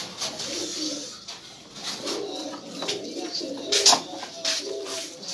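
Domestic pigeons coo close by, soft throaty calls repeating in uneven bursts with faint chirps and rustling between them, and no talk.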